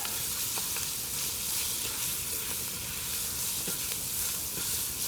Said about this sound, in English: I'm going to break those gizzards up and start to fry in that bacon fat